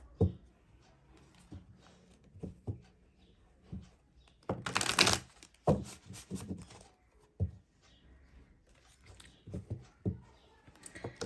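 Tarot cards drawn from a deck and laid out on a surface make soft close snaps, slides and taps in an irregular rhythm, with one louder shuffling flurry midway.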